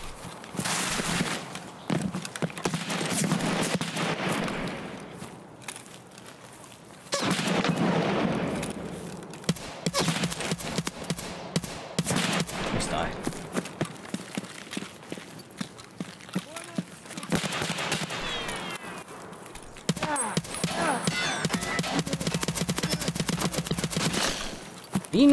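Rapid bursts of gunfire from a DT MDR 5.56x45 rifle in Escape From Tarkov, loud and close, broken by short pauses and mixed with footsteps and movement.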